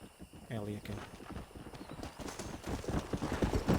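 Horse hooves clip-clop steadily in Red Dead Redemption on PC, a rhythmic, fairly close trot running under someone talking throughout.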